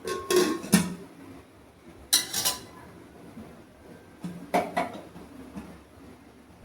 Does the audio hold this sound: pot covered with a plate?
yes